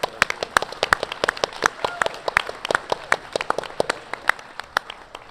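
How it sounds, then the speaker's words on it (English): An audience at a State of the World 2020 conference on democracy and human rights claps for several seconds in a steady, moderately loud round of applause. "So please join me in a round of applause."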